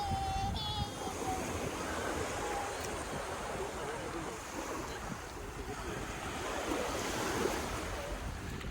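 Sea waves washing onto the sandy beach at Alcudia, Mallorca, a continuous rushing surf with wind buffeting the microphone and some faint voices in the background.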